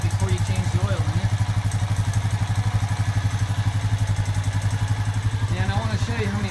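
A 2016 Honda Rancher 4x4 DCT ATV engine idles steadily to warm up, giving a close, even, rhythmic low putter throughout while someone talks over it.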